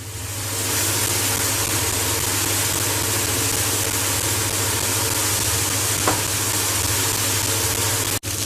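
Minced meat frying in a pan for oven-baked lasagne, a steady close sizzle that holds evenly throughout with one faint clink near the end, no talking.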